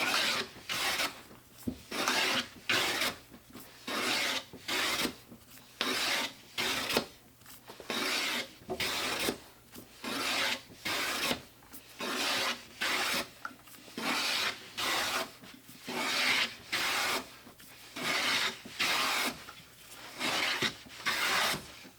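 A Lie Nielsen No 8 jointer plane shaves across sapele wood in repeated rhythmic rasping strokes, each pass about a second long with brief pauses between, close and clear with no talking.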